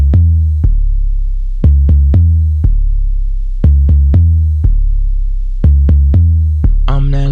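Recreated 808 bass in the style of a well-known song: booming sub-bass notes with long decaying tails, struck in a steady repeating pattern of pairs and single hits, loud and alone, with a brighter burst at the very end.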